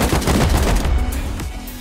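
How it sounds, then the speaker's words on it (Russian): Rapid gunfire in a survival video game, loud bursts of shots rattling continuously across the whole stretch, easing slightly toward the end. "Справа один стреляет."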